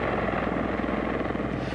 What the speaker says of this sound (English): Swarming ahead of them were more than 30 Apache attack helicopters.